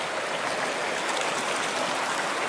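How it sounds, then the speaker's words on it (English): Freezing Andes meltwater rushes down a stone channel at Incahuasi, 3,800 meters up in Peru, as a loud, steady, close hiss and gurgle that fills the whole moment without letup. "Freezing cold water coming down"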